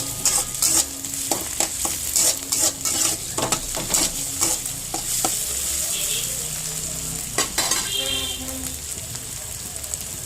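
Spice paste fries in a pan with a steady bright sizzle, broken by frequent loud scraping stirs and spoon knocks; faint voices and street noise drift in from outside.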